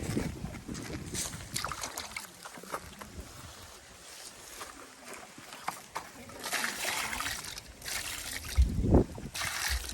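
Water is poured outdoors near a fish container, producing bursts of splashing and trickling that come and go, loudest toward the end, over a noisy outdoor background.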